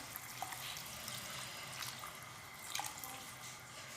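Water runs into a cooking pot in a soft, continuous splashing stream, faint and steady, with a few small drips and clinks over the flow.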